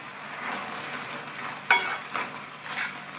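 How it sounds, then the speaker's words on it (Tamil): Drumstick leaf kootu with coconut paste bubbles softly in a pan, a low simmer broken by a few clinks and stirring scrapes around the middle and end. "உப்பு சேர்த்து நல்லா கலந்து விட்டாச்சு. இது 1 நிமிஷம் போல் கொதிக்கட்டும், போதும்."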